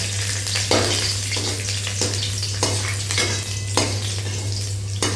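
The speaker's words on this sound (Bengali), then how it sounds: "আবার একটু তেল গরম করে প্রথমে রসুনটা একটু ভাজা ভাজা করে নেব" Garlic fries in hot oil in a pan, a loud continuous sizzle with a low steady hum underneath and periodic stirring scrapes from a utensil.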